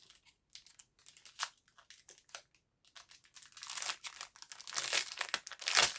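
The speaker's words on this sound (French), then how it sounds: "je fais du bruit avec le papier" Close, crisp crinkling and rustling of paper being handled, starting in sparse bursts and growing louder and more continuous toward the end.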